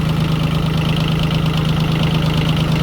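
A tractor fitted with a converted 600-series three-cylinder diesel engine idles with a steady, loud, uneven thumping chug that holds close and constant throughout.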